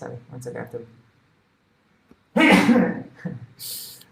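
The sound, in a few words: sneeze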